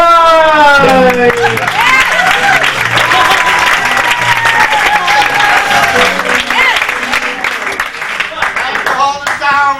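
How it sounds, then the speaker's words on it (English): Loud audience applause and cheering greet a comedy stage performer's entrance as Rabbi Abraham Stein at a Groundlings show, with a voice calling over the clapping near the start and end. "So please keep your applause to yourself"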